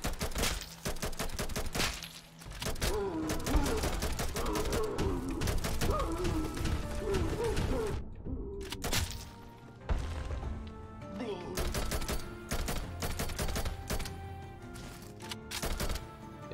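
Rapid bursts of video-game gunfire from guns added to Hollow Knight through a randomizer mod crackle in dense volleys, with brief pauses and a short gap midway, mixed with game effects and a voice talking.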